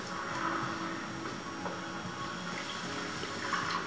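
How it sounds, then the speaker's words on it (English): Water splashes and trickles into a bowl of sushi rice being washed, with a soft, steady pour and faint ticking bits of grain, heard close and quiet with no talking. "Now we're going to add some more water to this."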